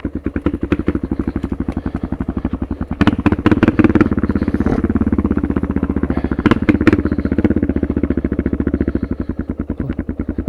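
A Suzuki DR650 dirt bike engine with a jet kit putters close by in a rapid, even chugging rhythm, with a brief louder rev midway and some clattering before settling back to idle.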